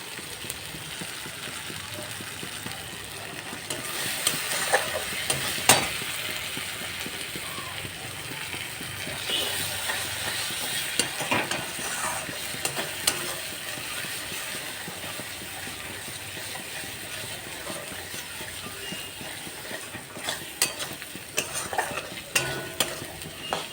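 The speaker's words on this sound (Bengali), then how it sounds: "এই মশলাটা এবার কষিয়ে নিই একটু কষিয়ে নিই" Spice paste stir-fried in oil in a pan, a steady soft sizzle with irregular scraping and stirring clicks from a utensil, fairly quiet and without speech.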